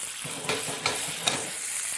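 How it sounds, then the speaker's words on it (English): Mustard seeds pop and crackle in a hot frying pan alongside basil, a steady close sizzle broken by a few sharp pops. "You can see the mustard seeds popping."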